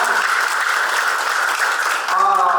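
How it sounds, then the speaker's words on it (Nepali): Audience applause at a ceremony honouring committee officials, a steady roar of clapping that fills the whole moment, with a voice beginning to speak over it near the end. "उहाँलाई अझै जोरदार तालीले सम्मान दिनुहोला"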